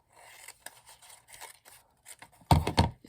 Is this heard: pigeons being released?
no